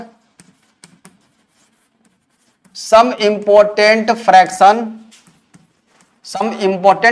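Faint, sparse scratches and taps of writing on a classroom board, followed by loud talking that covers most of the strokes.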